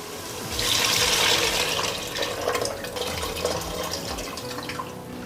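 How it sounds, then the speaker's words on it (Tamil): Tamarind water pours into a pan of curry being cooked, a steady splashing gush that swells early and then settles into a softer trickle for several seconds, close and without talk. "நம்ம கரைச்சி வச்சுருந்தா புளியை சேர்த்துடலாம்"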